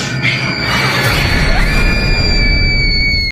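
A woman screams loudly in a sustained, piercing shriek over harsh, crash-like noise, holding the high pitch for about three seconds before cutting off abruptly.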